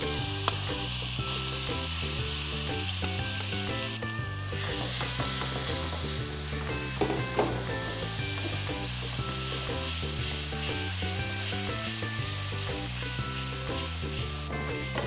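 Ground spice paste sautés in a pan, a dense, steady sizzle that fills the whole stretch, with occasional stirring scrapes over a background of soft music.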